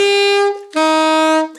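An alto saxophone plays a short run of notes in a beginner band lesson, sounding loud and close as two sustained tones separated by a brief break.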